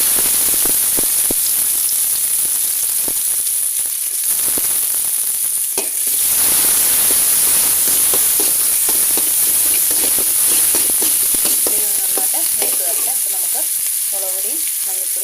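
Crushed shallots and garlic frying in hot oil with mustard seeds for a Kerala-style dish, a loud, continuous close sizzle with scattered stirring clicks and spatters throughout.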